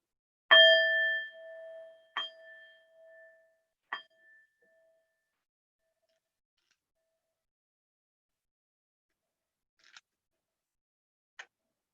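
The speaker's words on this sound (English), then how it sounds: "we ring this bowl to remember the Christ spirit in each of us" A church singing bowl is rung at a service with a clear initial strike that rings out with a sustained tone, followed by two more fading strikes, then two faint taps near the end amid otherwise silence.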